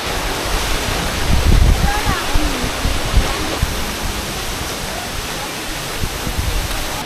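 A waterfall at Aw Asen Falls in Ilocos Sur, heard from close by as a loud, unbroken roar of rushing water with a brief low rumble, filling the whole stretch without talk.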